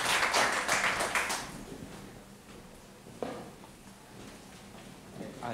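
A short burst of audience applause at an evening talk, loud and brisk for about a second and a half, then quickly fading into a quiet room with a few faint taps.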